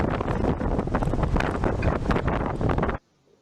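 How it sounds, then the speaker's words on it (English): Strong wind near Calgary airport buffets the microphone with a loud, continuous roaring rush that cuts off abruptly into near silence at the end. "It's windy, so you just hear the wind."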